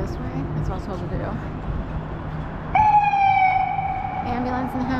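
An ambulance siren on a city street in Philadelphia near City Hall cuts in partway with a loud steady tone over street noise and nearby voices.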